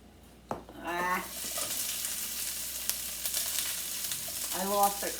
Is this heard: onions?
yes